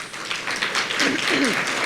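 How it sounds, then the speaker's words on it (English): An audience claps briefly at a talk event, a short burst of dense applause with a voice rising faintly partway through. "Give yourself a round of applause."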